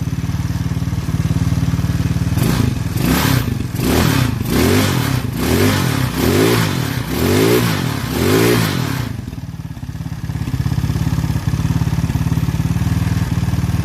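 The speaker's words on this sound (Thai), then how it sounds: "ประกอบเสร็จติดเครื่อง ค่อนข้างจะเสถียร" A freshly assembled FD300 buggy engine runs steadily close by, with a burst of repeated throttle revs rising and falling before it settles back to an even idle.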